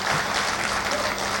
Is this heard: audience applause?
yes